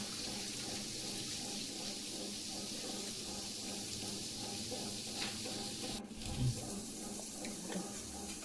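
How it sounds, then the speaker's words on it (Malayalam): Cold tap water poured over boiled noodles in a kitchen, a steady soft rushing splash throughout, fairly faint and continuous, with a brief thump near the end. "ഇപ്പം പച്ചവെള്ളം കൂടെ നമ്മൾ ഒഴിച്ചു കൊടുക്കണം കേട്ടോ."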